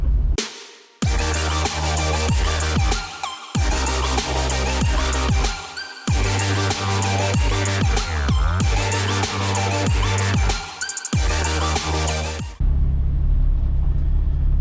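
A car on the road heading to a salvage yard, a steady loud engine and road rumble heard from inside, broken by a few brief cuts, with no talking.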